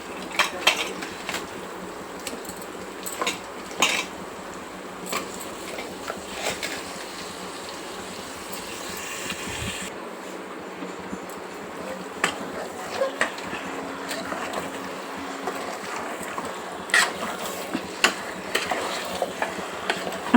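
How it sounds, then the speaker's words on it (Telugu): Chicken pieces go into a pan of softened tomatoes for a chicken curry and get stirred, giving a steady low sizzle with scattered scraping and clattering stir strokes that continue throughout. "ఇక ఇప్పుడు మనం తీసుకున్న చికెన్ వేసేసుకుందాం."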